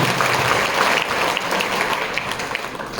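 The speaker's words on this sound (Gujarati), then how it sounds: "જોરદાર તાળીઓથી સાહેબને વધાવીએ" Steady applause from an audience greets a guest at a school annual function, a dense wash of clapping that carries on for the full few seconds.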